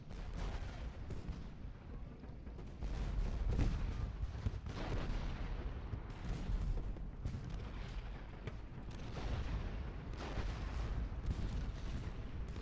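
An artillery battery firing shells in the Civil War strategy video game Ultimate General Gettysburg produces a steady, fairly quiet barrage of distant cannon thuds and rumbling booms that overlap continuously across the stretch, with no voices.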